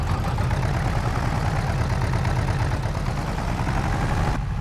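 A small single-cylinder tractor engine in the video game Farming Simulator 22 drones steadily and loudly under load while pulling a trailer, its low rumble constant and close with no talk.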